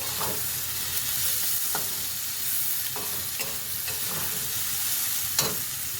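Pointed gourd and peanuts fry in oil in a pan, a steady close sizzle broken every second or so by the scrape of a spatula stirring them.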